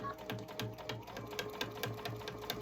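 A sewing machine stitches through a thick dish drying mat with pins left in, running in a steady, quiet rhythmic chatter of needle strokes at close range.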